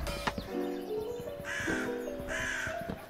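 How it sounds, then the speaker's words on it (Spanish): Crow cawing in a modded Minecraft game, two loud harsh caws close by, each a short burst over a steady backdrop of game music. "¡Coño, cuervo!"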